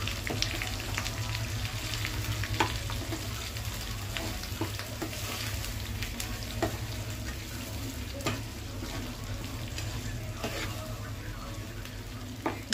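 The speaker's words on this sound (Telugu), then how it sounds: "తాలింపులో మగ్గితే సరిపోతుందండి." Ivy gourd chutney tempering fries in oil in a pan on a stove, giving a steady close sizzle with faint crackles and pops throughout, no voices.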